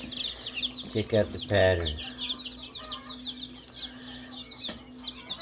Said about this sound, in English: Those are all quail down there.